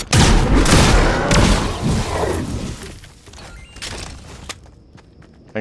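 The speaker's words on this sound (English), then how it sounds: "Got a rocket launcher." A video game rocket launcher fires and explodes with loud, dense booms and crackling debris that fill the first seconds, then decay into scattered thuds and a quieter tail of rattles.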